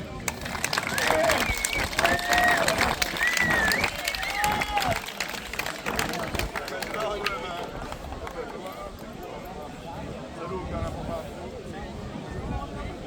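Audience applause at a grilled pig contest awards ceremony in Vracov, clapping that swells early then thins and lingers, with an announcer's voice and faint whistles over it.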